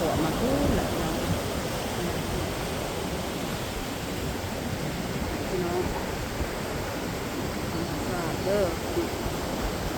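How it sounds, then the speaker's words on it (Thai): Water flows steadily outdoors in a rural Thai countryside setting, blending with wind into a dense, constant rushing wash that runs the full length. Someone speaks briefly over it. "ได้ยินเสียงน้ำไหลและกระลมพัดนะพี่น้องเย็นสบาย"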